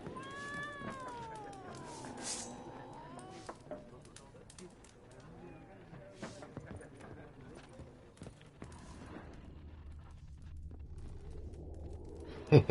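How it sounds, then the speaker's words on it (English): A cat in The Witcher 3 meows in several rising and falling cries, clear at first, then fades under game noise and a low rumble, with a sharp thump at the end. "I gotta kick this fucking cat."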